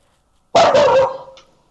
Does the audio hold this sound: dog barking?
yes